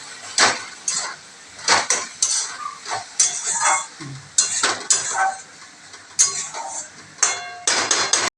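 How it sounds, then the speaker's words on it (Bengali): A pot of bori diye laoghanta, bottle gourd cooked with lentil dumplings, ginger and coriander leaves, is stirred with a metal spoon: close, loud clanks and scrapes against the pot in uneven bursts, ending with a lid being set back on, no talk. "একটু নাড়াচাড়া করে আবার ঢাকা দিয়ে দে"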